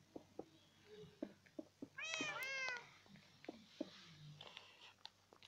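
Cats meow in the Minecraft video game, a burst of several overlapping, rising mews in quick succession near the middle, set among soft clicks and light game noise.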